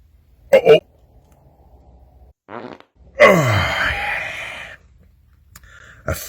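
A man's fart after drinking cream soda and Dr Pepper: a long, loud, rasping blast close by, preceded by brief vocal noises and a short buzzy burst, then trailing off.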